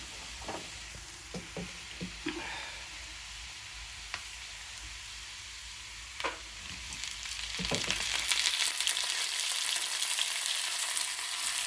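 Drumsticks frying in a pan for a drumstick and brinjal curry make a steady broadband sizzle. Occasional stirring clicks sound through it, and the frying grows louder and denser toward the end.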